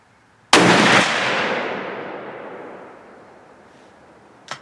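A single loud rifle shot from a Savage 110 Desert Tactical fired on a bench at the range, a sharp crack followed by a long rolling echo that slowly fades, with a faint click near the end.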